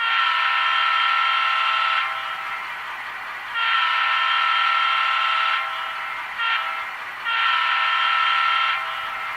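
An Atlas model locomotive horn sounds in three loud, sustained blasts separated by short pauses, with a brief stutter before the last one.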